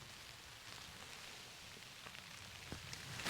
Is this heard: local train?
no